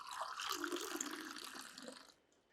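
Water poured during a classroom lecture: a soft, steady splashing trickle that runs for about two seconds, then stops. Faint and fairly close.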